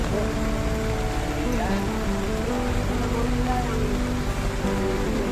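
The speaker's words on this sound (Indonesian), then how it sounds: "Hari hujan ini." Steady rain pours at Kampung Rambutan bus terminal, a constant loud hiss that runs throughout, layered with the droning hum of idling buses.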